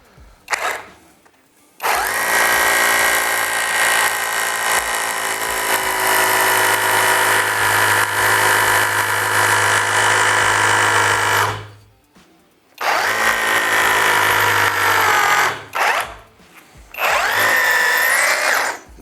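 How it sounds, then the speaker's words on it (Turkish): A cordless hammer drill grinds loudly about 10 cm into concrete in long sustained bursts, stopping briefly twice before starting again, close and harsh with a droning motor. "yaklaşık 10 santim kadar girdik betona gayet de rahat bir şekilde girdi"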